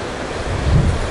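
Rough Sea of Japan surf breaking on the Nikaho coast in Akita, a continuous low wash of waves swelling to a heavier surge, mixed with wind noise on the microphone.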